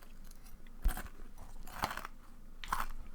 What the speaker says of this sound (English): So I'm just gonna be eating cereal.